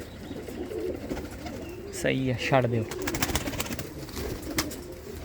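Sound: pigeons cooing

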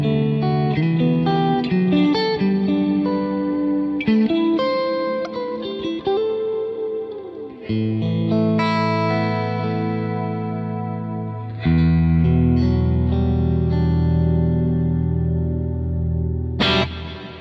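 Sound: shimmer reverb guitar effect

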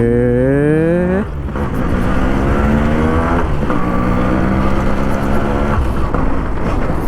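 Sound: Yamaha RX135 motorcycle engine while riding on road

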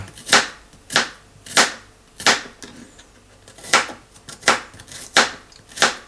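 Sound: knife chopping garlic

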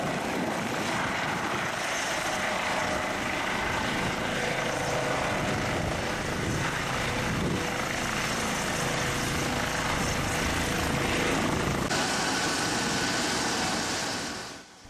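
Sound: ambulance helicopter

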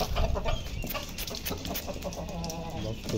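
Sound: hens clucking

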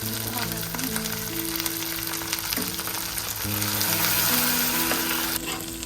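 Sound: coconut prawn gravy frying in pan

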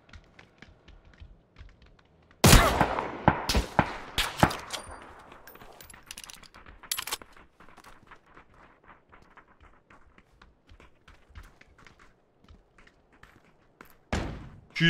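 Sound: gunfire in the video game PUBG

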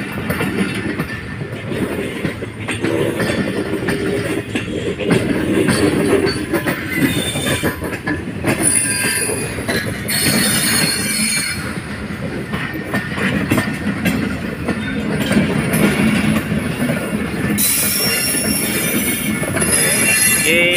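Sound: passenger train running, Rohri to Karachi special

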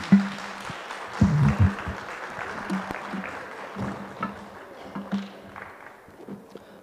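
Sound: audience applause after panel session

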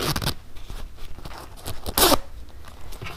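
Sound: zipper on a waxed canvas laptop sleeve being handled

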